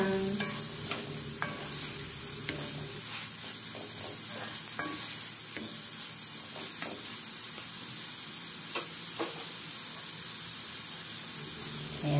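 Carrots and noodles for pancit canton are stirred and tossed in a hot pan, giving a steady close sizzle with scattered scraping and clinking from the utensil against the pan.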